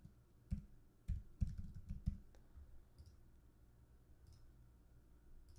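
Typing on a computer keyboard, a quick cluster of soft clicks and key taps, faint and close, fading to near silence afterward.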